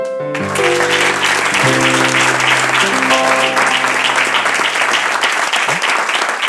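Audience applause at a literary tour event in Santa Coloma de Farners, with steady dense clapping filling the room after a brief sustained musical tone at the start.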